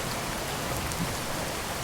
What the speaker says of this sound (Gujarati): ભારે વરસાદ વરસી રહ્યો છે